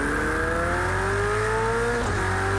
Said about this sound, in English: Just listen to this absolutely beautiful Ferrari.